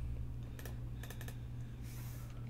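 Fingers type numbers on a computer keyboard, giving a few brief clusters of crisp key clicks over a steady low hum, close and moderately quiet, with a short burst of hiss near the end.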